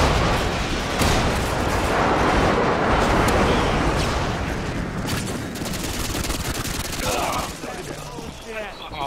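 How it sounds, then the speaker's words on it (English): Airstrike explosions in Call of Duty Modern Warfare 2 multiplayer Ground War on Sub Base: a dense, continuous barrage of booms and gunfire rumbling loudly for the whole stretch, with voices faintly mixed in near the end. "airstrike inbound"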